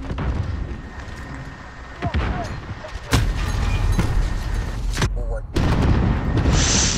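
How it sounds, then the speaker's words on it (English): A rocket launcher fires in Call of Duty Modern Warfare, heard as several sharp, heavy booms amid ongoing gunfire and battle noise, loud and close. "That's a rocket launcher."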